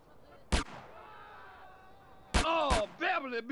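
Gunshots in the video game GTA San Andreas: a single sharp, loud blast, then a pause and two more close cracks in quick succession, with a game voice and background score continuing between them.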